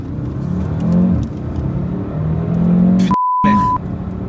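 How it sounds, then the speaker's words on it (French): Cupra Formentor VZ5 ABT with a five-cylinder engine accelerating hard on a road, a loud close rumbling growl that swells and rises in pitch, broken by a brief cut near the end. "le 5 cylindres, c'est un de mes moteurs favoris en plus"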